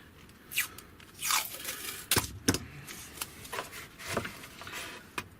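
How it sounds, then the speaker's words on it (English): Tape is torn and wrapped around the wing of a 68-inch DHC-1 Chipmunk RC model plane, giving close, quiet crackling rips and short sharp tears at uneven intervals. "we're just going to wrap it round, bit of tape, hold it down at the front"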